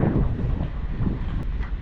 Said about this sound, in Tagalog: ang sarap ang hangin